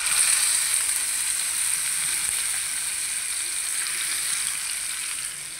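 Hot oil sizzles steadily in a pan while being readied to cook spice-coated fried fish for a Bengali fish roast, a continuous close hiss at even loudness with no talking.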